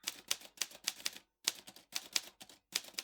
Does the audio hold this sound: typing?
yes